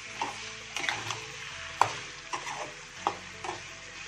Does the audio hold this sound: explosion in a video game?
no